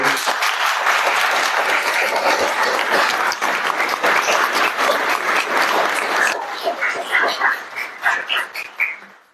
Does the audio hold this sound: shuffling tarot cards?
no